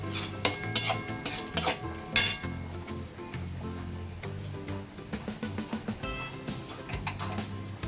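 Veg noodles being stir-fried in a pan in a home kitchen, with a run of sharp metallic clinks of a utensil striking the pan at the start, then a softer scraping and sizzling.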